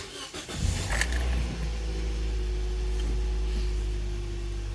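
A car engine is started with a brief cranking burst, catches, and then settles into a steady low idle hum that runs on without talk.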